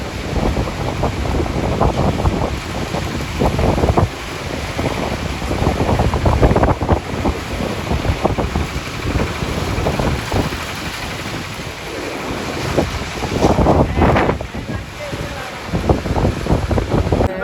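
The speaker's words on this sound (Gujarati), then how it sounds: "એકદમ ઠંડો ઠંડો પવન આવી રહ્યો." Cold wind blowing beside the Alaknanda river at Badrinath temple, a steady loud rushing roar with buffeting gusts across the microphone throughout, with faint voices in the background.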